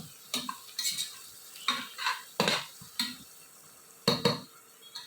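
A spoon stirs green chillies into masala in a pan for prawn biryani, giving a series of scraping, clattering strokes about every half-second over a faint sizzle, close and without talk.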